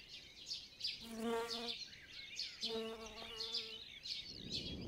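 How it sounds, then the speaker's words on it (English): A cuckoo wasp and mason bees buzz at a bee hotel: close insect wingbeat hums rise and fall in two distinct bursts, set against high, faint bird chirping in the background. "an imposter, a cuckoo wasp, tries to sneak its egg into an unattended nest"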